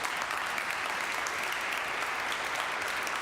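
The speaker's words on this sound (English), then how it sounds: "I think we should give them a round of applause," At a memorial celebration of life, mourners give the musicians Emily and Stephen a round of applause, a steady, even patter of many hands that stays at one level throughout, with no talking.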